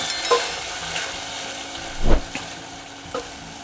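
Green mung bean usal is stirred in a pan over a lowered gas flame, with a soft, continuous frying hiss and a few distinct scraping strokes close by.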